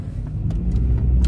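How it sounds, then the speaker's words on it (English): Heard from inside a car, the engine keeps up a steady low rumble with a few faint clicks and knocks above it, loud and close, with no talk over it. "So, I'm in the car right now"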